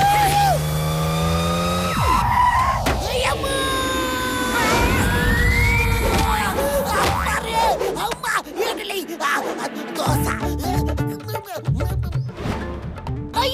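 A cartoon car roars along at speed with rising whooshes, screeching and dramatic effects that build into a chaotic crash-like clatter, loud and busy throughout.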